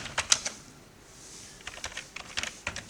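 A computer keyboard clicks sharply and close by, in scattered bursts of keystrokes broken by a short pause in the middle, with no voices.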